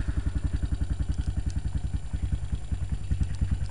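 A Honda Recon 250 ATV engine with manual choke runs steadily at idle, a close, even rhythmic putter with light mechanical clatter, no talking.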